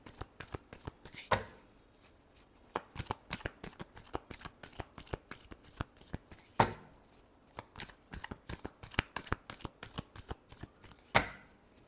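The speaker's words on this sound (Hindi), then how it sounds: "Last shuffle." Tarot cards shuffled by hand, a rapid, close ripple of riffling card flicks with a few heavier slaps as the deck is squared, fairly quiet, with no talk over it.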